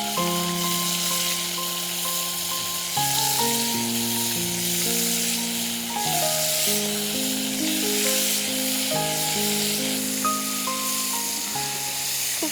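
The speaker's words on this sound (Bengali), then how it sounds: "ভাজা পোড়ার আওয়াজটা ইফতারের আগে আগে খুব ভালো লাগে" Fish frying in hot oil gives a steady, dense sizzle that runs the whole time, with melodic background music playing over it.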